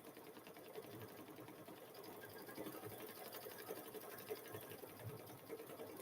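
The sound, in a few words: embroidery machine quilting a chicken quilt in the hoop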